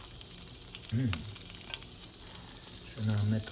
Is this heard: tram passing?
no